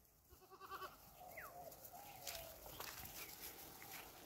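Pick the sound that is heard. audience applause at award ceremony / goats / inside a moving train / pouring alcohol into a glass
goats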